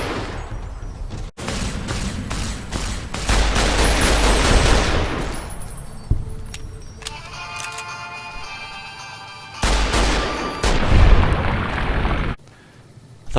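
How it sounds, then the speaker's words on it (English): A plasma rifle fired in the video game Fallout: New Vegas, giving loud bursts of energy-weapon shots and booming impacts in quick clusters, with brief pauses between volleys and ringing tones trailing after some blasts. "The plasma rifle's greatest weakness is the slow speed of its bolts"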